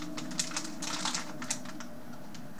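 Keys on an auxiliary computer keyboard click in quick, irregular bursts as a cat named Freya walks across it, close and fairly loud with no voices.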